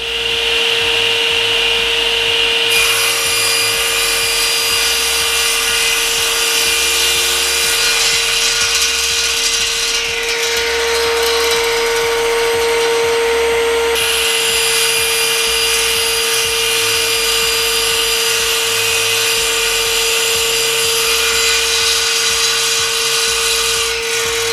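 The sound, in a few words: table saw cutting Iroko wood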